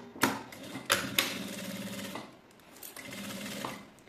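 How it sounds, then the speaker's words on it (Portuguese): A sewing machine stitches the side seams of a fabric box with two pockets, producing quick rattling runs of stitching broken by sharp clicks and short pauses, close but fairly soft. "E agora nós vamos passar a costura aqui em todo essas laterais"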